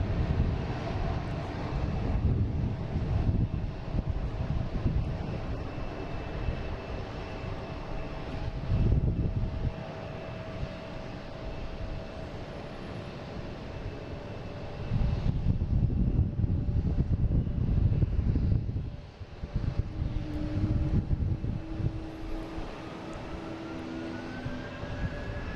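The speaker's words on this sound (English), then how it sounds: "Hear the engine revving up down here." A jet airliner's engines spool up at Boston Logan International Airport, a distant, sustained roar that swells louder for a few seconds midway, with wind buffeting the microphone throughout.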